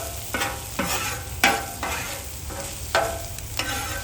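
Chopped cheese ingredients are stirred and scraped on a hot griddle, with a steady sizzle and repeated sharp spatula scrapes at an uneven rhythm, close and clear with no talking.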